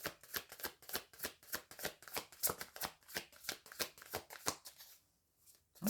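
A tarot card deck is shuffled by hand before a single card is drawn. It gives a quick, even run of soft papery riffles at close range, then goes briefly quiet at the end.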